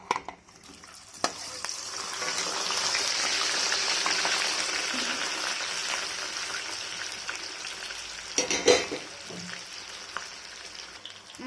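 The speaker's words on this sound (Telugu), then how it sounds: "చికెన్ పకోడాలు తొందరగా 5 మినిట్స్లో ఫ్రై అయిపోతాయి." Chicken pakoda frying in hot oil for about five minutes: a dense, close hiss of bubbling oil that swells after the pieces go in, with a few stirring knocks near the end.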